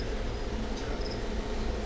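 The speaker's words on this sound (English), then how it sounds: "It's a cricket right there." A cricket in an insect tank chirps faintly amid a steady hiss of background noise, with a couple of brief high chirps and no voices.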